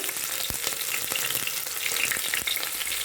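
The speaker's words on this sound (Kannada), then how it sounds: "ಈರುಳ್ಳಿ ಇಷ್ಟನ್ನು ಹಾಕಿ ಚೆನ್ನಾಗಿ ರೋಸ್ಟ್ ಮಾಡಿ" Onions roasting in hot oil in a pan with bay leaf, peppercorns and ginger-garlic paste for vegetable pulao, a steady close sizzle with a few soft stirring knocks and no voices.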